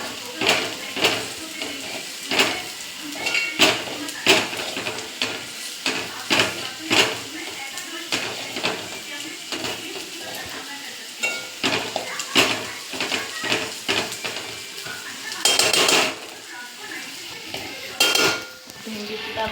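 A spoon clinks and scrapes against a pan as chili powder is mixed into okra for bhendi masala, irregular metallic taps over a soft sizzle, close by.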